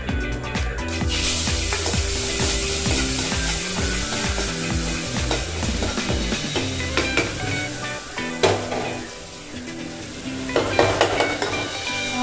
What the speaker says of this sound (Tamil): தாளிக்கிறதுக்கு வெந்தயம், வெங்காயம் போடும்.